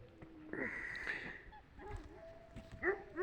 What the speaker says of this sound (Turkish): Köpekler yine var ha.